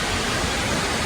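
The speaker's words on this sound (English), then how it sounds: "Finally we got this waterfall." Steady, dense roar of a waterfall near Pawana Dam, loud and close, a continuous broadband wash of falling water with no break and no voices over it.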